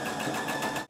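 A sewing machine stitches a straight seam on a refashioned sweater arm warmer, a steady rapid mechanical whir close up that runs for under a second and then stops.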